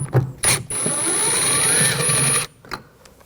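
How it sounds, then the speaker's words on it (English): A ratchet with a T20 socket backs screws out of a 2000-2006 BMW X5 rear door panel, a single steady buzzing run of clicks lasting about two seconds, close and fairly loud, with brief handling noises before and after. "Now we're going to take these screws out, use a T20 socket."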